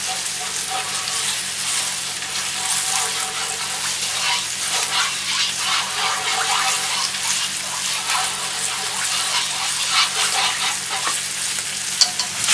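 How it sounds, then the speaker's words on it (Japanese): Sauce for Beijing-style black vinegar sweet and sour pork heats in a pan, a steady close sizzle with bubbling and faint stirring scrapes over a low background hum. "先ほど混ぜたあんを火を通します"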